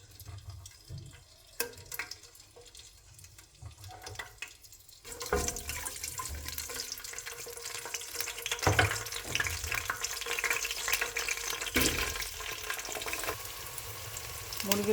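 Chicken frying with spices in a pan, a low muffled start giving way to a loud, steady sizzle with stirring noises and brief clatters, no talking.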